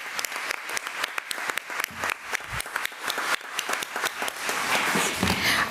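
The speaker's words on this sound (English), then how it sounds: "Let's give Isabel Hickman another round of applause." A school board meeting audience gives a student a round of applause, a steady crowd of hands clapping for several seconds, swelling slightly toward the end.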